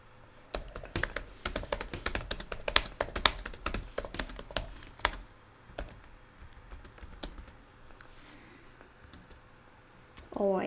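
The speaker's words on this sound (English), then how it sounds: "Probably hear my keyboard" Rapid clacking of a computer keyboard typed in bursts at close range, dense keystrokes for several seconds and then sparser taps, with no speech.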